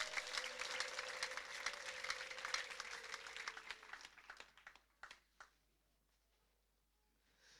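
A church congregation at an ADEPR prayer service bursts into dense, steady applause that thins into scattered claps and fades out after several seconds.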